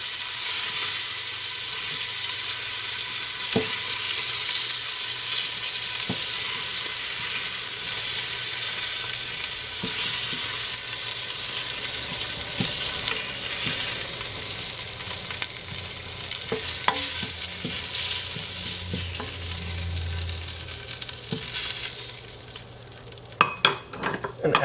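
Meat browning in batches in a frying pan, a steady close sizzle and hiss running throughout with occasional stirring clicks, no voices.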